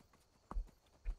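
A horse's hooves in Skyrim strike the ground twice, each a soft, quiet, low thud about half a second apart, with no voices.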